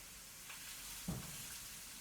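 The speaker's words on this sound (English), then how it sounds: "while they're frying down" Food frying in a pan, heard as a faint, steady sizzle with a soft clink of a utensil partway through.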